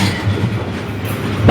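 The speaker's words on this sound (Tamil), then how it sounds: "ரொம்ப நீளமான ட்ரெயின் போலியே." A long train rolls past in Vietnam with a steady, loud, close rumble and rush that stays even throughout the short stretch.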